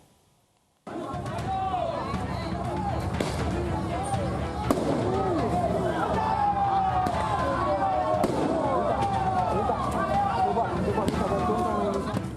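Firecrackers hurled back and forth during a youth street brawl after the pre-dawn sahur meal in Medan Labuhan, North Sumatra, popping and cracking repeatedly over steady crowd noise and scuffling throughout.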